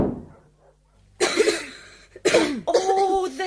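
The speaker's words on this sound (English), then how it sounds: "Oh, there's a cough you've got." A person with a cold coughs after a snowy journey, voiced by a narrator: two harsh, close bursts of coughing separated by a brief pause, with a little breathy throat noise between them.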